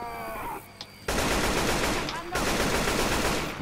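Bursts of rapid machine gun fire ring out in Left 4 Dead 2, two long loud volleys separated by a brief pause, with game sound effects under them.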